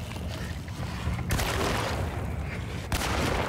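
Gunfire in the Alone in the Dark video game, a dense loud barrage of rumbling shots with a sharp crack near the start and another near the end, no voice over it.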